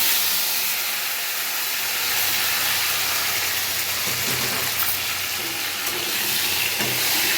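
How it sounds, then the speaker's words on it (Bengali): Taro, potatoes and eggplant frying in hot oil give off a steady, loud sizzle and hiss that stays constant throughout, with faint clinks of stirring underneath. "তেলটা গরম হয়ে গেছে এখন আমি এর মধ্যে গাটি কচু আলু আর বেগুনগুলোকে ছেড়ে দেবো"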